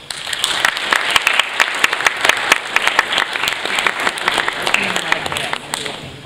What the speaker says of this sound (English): Cadets, let's give your parents a big round of applause.